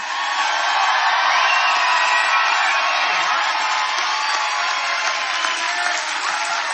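A large crowd at a Donald Trump political rally in Ashburn, Virginia, in 2016 cheers and applauds loudly and continuously, a dense wall of clapping and shouting that holds steady throughout.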